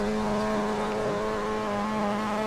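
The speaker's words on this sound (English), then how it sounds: "A little bit less engine noise." An NA Mazda MX-5 Miata race car in a rookie-class race at the Feldbergring gives a steady, even engine drone held at a constant pitch throughout, close and moderately loud.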